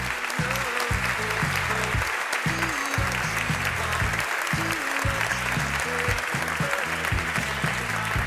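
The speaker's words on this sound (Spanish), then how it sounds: "Fuerte el aplauso." Audience applause at the XXI Premio Empresa Teruel 2025 award ceremony, a steady, dense clapping that fills the hall throughout, with some low rhythmic music playing underneath.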